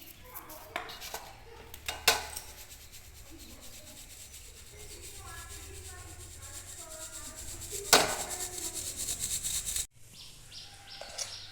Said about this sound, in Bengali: এবার এগুলোকে আমি চেলে নেব